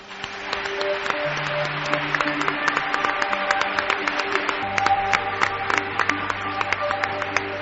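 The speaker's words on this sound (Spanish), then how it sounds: "¿cómo suenan los aplausos, amigos?" Audience applause, a dense steady patter of many hands clapping, moderately loud and continuous with faint tonal music underneath and no talking.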